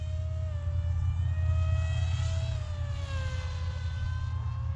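A Kingkong Thunder 600X FPV flying wing's electric motor runs at about half throttle, giving a steady whine that shifts slowly in pitch over a low, constant rumble of airflow.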